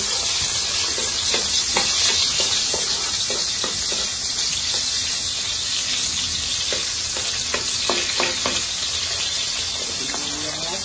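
Garlic sautéing in a pan for Filipino dinuguan gives a steady, dense sizzle with intermittent spatula scrapes and stirring taps throughout, close and continuous.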